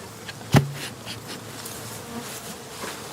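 Honey bees buzz around a hive in early spring, a dense hum with one loud bee passing close by and quick fainter fly-bys following it.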